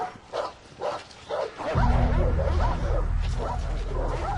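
Several dogs bark and yip in a rapid, repeated sequence close by, then a heavy low rumble of noise takes over while the barking continues underneath.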